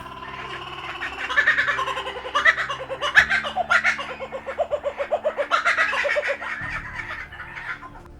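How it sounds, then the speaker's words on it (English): Laughing kookaburra calling in a rising, cackling series of loud, rapid chuckles and hoots, repeated bursts over several seconds with steady musical accompaniment underneath. "The laughing kookaburra is instantly recognisable in both plumage and voice"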